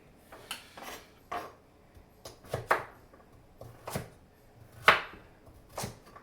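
A knife chops carrots on a board for chicken soup in a home kitchen, making a series of sharp, uneven thunks, some single and some in quick pairs, close and clear with no talking.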